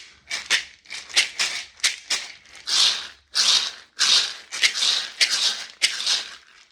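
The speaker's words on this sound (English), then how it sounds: "nice Hosho from Great Zimbabwe" A pair of hosho gourd shakers from Great Zimbabwe rattling in short, bright bursts, with a dozen or so quick shakes in an uneven rhythm, close and fairly loud, with no talking.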